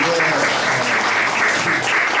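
Concert crowd in Gangnam-gu gives loud, sustained applause, a thick, continuous roar of many hands clapping at once with no pause, filling the full couple of seconds.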